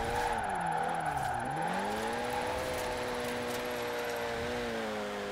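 A front-wheel-drive car in Forza Horizon 4 handbrake-drifting, its engine note steady and revving with a sweeping pitch dip and rise as it slides, a continuous whine with no talk.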